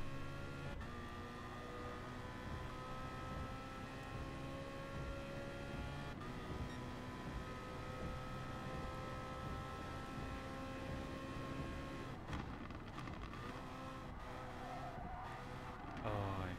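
Group 3 race cars in Gran Turismo Sport roar through an endurance race, a steady loud engine drone with higher whine tones and brief scraping bursts from wall contact near the end.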